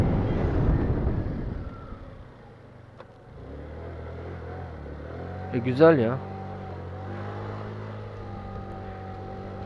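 An RKS Bitter 50 motorcycle accelerates to about 40 km/h and then brakes hard during a test ride. A loud rush of wind and engine noise drops to a low steady hum, and a rider speaks briefly over it.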